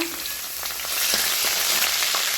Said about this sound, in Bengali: তেল গরম হয়ে গেছে তেলে আমি দিয়ে দেবো রসুন কুচি কাঁচা লঙ্কা